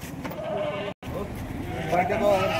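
Kathiawadi goats bleating inside a transport vehicle arriving in Chalisgaon, several close bleats under steady vehicle rumble, with someone talking over them.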